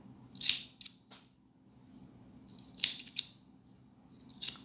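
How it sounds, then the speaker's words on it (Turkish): Scissors snipping yarn while trimming a handmade pompom, a few sharp close cuts in short bursts separated by quiet pauses, with no talking. "Siz diğer makası da kullanarak daha çabuk etrafını kesebilirsiniz."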